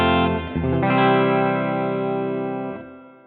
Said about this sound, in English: Let's do chorus. First up is some clean tone.